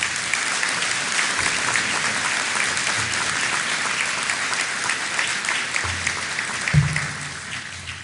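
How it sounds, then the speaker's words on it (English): Commencement audience applauding steadily for a full stretch of sustained, dense clapping that fills the hall, with a few brief low voice murmurs near the end. "Please give a round of applause and welcome Admiral Eastberg."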